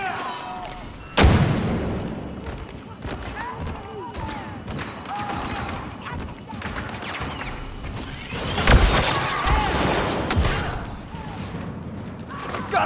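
Blaster fire crackles through a Star Wars Battlefront II multiplayer battle on Takodana, loud sharp bursts at the start and again near the middle over rumbling background combat, with voices calling out amid the shooting.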